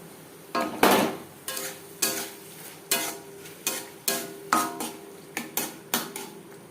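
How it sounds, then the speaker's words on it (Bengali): Slices of tomato being stirred into hot oil in a pan over a low gas flame for a fish-oil fry, a spoon scraping and clinking against the pan in about a dozen sharp, regular strokes over a low background. "তেলের সাথে টমেটো বেশ ভালো করে মিক্সড করে দেব"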